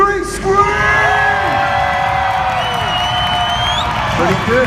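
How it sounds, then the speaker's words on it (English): A large arena crowd at an Arenacross opening in Birmingham, UK screams and shouts in one loud, sustained roar that swells and fades over a few seconds. "I want everybody to stomp their feet, scream, shout, clap"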